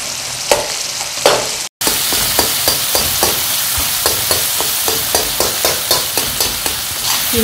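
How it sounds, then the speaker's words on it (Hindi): Tomatoes frying and being stirred in a kadai over full flame for keema kadai, with a steady sizzle and regular scraping strokes roughly every half second throughout, close and moderately loud. "इसको टमाटरों को थोड़ा ना ऐसे ऐसे करते हुए फुल फ्लेम कर लें"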